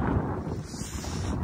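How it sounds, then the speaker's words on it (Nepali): Wind blowing outdoors near a lake where people are fishing, on a cold, cloudy day, a continuous low roaring rush with gusty buffeting against the microphone, loud and close, with no talking. "यहाँ चाहिँ हावा चाहिँ दामी चलिरहेछ है हावा चाहिँ"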